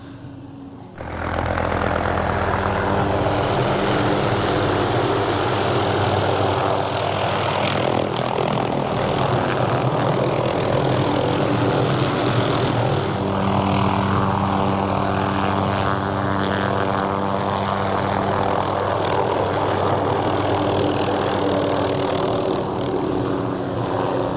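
A loud engine and rotor roar from an MD500 spraying helicopter starts abruptly, holds steady and close for a long stretch, then gradually thins as the helicopter takes off and moves away.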